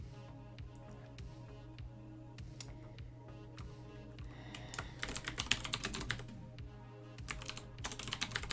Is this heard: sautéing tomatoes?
no